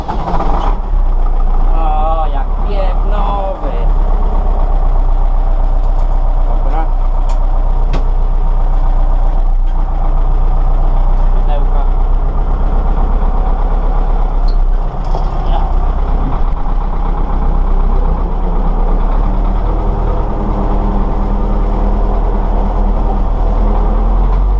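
An MTZ 82 tractor diesel engine runs and idles steadily for the whole stretch, loud and close with a constant low rumble and some mechanical clatter.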